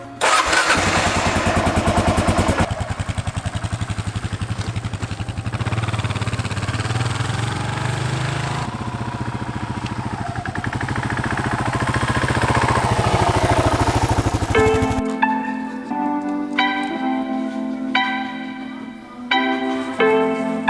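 A Kawasaki KLR650 motorcycle engine cranks, fires and runs at a loud, steady idle close by, then the revs rise and fall in several short blips toward the end.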